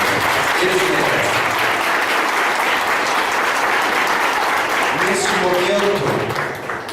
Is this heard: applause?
yes